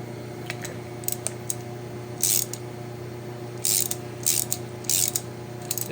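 Metal ratcheting on a racing kart as brake bolts are tightened, with a few short bursts of clicking over a steady mechanical hum and no speech.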